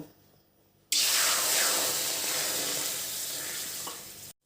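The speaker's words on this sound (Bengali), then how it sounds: "কড়াই গরম হলে এর মধ্যে হাফ কাপ জল দিয়ে দেব।" Half a cup of water hits a hot wok with a sudden loud sizzling hiss that starts abruptly, holds strong and slowly eases for about three seconds, then cuts off, with only faint background before and after.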